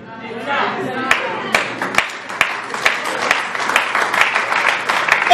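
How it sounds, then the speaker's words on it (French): A church congregation claps and cheers during a sermon, with scattered sharp claps over crowd chatter and voices that build toward the end. "Elles sont lourdes, vos acclamations"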